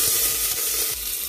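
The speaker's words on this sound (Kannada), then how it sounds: "ಈಗ ಕರಿಬೇವಿನ ಸೊಪ್ಪು ಹಾಕೊಳ್ಳೋಣ" Curry leaves and mustard seeds hit hot oil in a pressure cooker, giving a loud, steady, crackling sizzle with a few pops throughout the short stretch.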